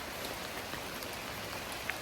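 Steady rainfall, a dense, even hiss of countless drops hitting a surface, moderately quiet and unbroken, with no voices.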